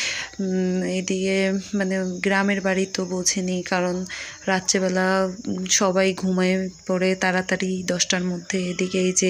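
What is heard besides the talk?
crickets chirping at night in a village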